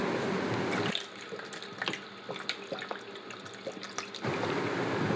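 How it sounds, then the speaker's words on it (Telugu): Spinach leaves being washed in water: running tap water gushes loudly at first, then gives way to close splashing, dripping and handling sounds before the flow returns. "పాలకూర బాగా కడిగి పెట్టుకోవాలి"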